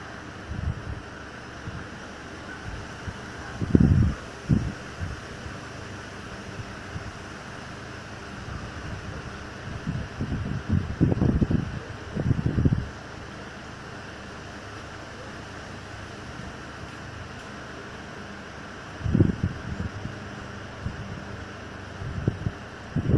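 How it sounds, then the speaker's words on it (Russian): Strong, gusty wind blows in uneven bursts, roaring up loudly several times before falling back to a low, steady rush, with no voices heard. "ветер сильный, порывистый, борется."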